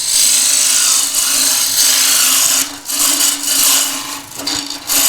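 Skew chisel cutting wood spinning on a lathe while turning a wooden table lamp, a steady loud hissing scrape with a constant low hum, briefly easing and resuming a few times.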